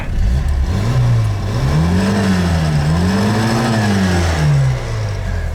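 The engine of a Lada Zhiguli car is revved close by, rising and falling in two or three smooth swells over a steady idle hum, loud and continuous with no talk over it.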